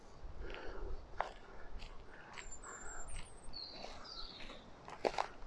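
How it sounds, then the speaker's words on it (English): Birds call in a quiet cemetery on a summer's day, with a few short chirps and whistled notes, plus a crow-like caw, scattered over faint background noise and occasional footsteps. "You can hear the birds singing again."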